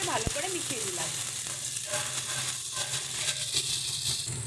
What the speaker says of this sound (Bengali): আদা বাটা, পেঁয়াজের সঙ্গে সমস্ত মশলাগুলোকে ভালো করে মিশিয়ে দিলাম।